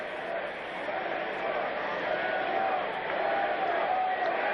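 Football fans in a Philadelphia stadium, San Diego at Philadelphia, begin a chant for Randall Cunningham, heard as a dense, steady crowd roar that stays broad and sustained for several seconds.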